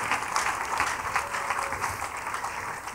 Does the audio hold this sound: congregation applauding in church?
yes